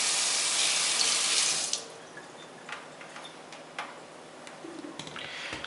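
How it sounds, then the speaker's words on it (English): A kitchen faucet runs strongly as pork is rinsed underneath, the water rushing steadily for a couple of seconds before shutting off, leaving faint drips and small clinks in the sink. "I'm going to go ahead and rinse this off real quick."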